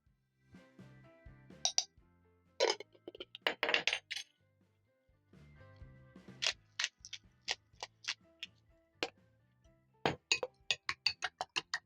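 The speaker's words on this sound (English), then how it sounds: "Whisk in the eggs." Two eggs seasoned with salt and pepper are whisked in a bowl, producing bursts of quick, crisp metallic clinks separated by short pauses, close and fairly quiet.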